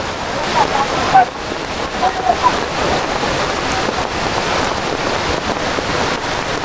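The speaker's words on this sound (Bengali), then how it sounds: "দেখুন এখান থেকে কত স্পিডে জল আসছে।" Devkund waterfall in the monsoon rushes with a dense, continuous roar of fast-flowing water, loud and close, with gusts of wind buffeting the microphone.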